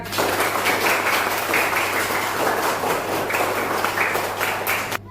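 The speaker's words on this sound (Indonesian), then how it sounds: "Tepuk tangan dong Mas Rehan." Children clap together in a classroom, a steady run of dense, close clapping that carries on for about five seconds before stopping abruptly, with a low hum underneath.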